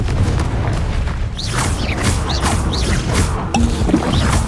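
Confringo explosive spell in Hogwarts Legacy combat, a series of sharp whooshing blasts and thwacks, roughly five bursts in quick succession over a dense crashing background.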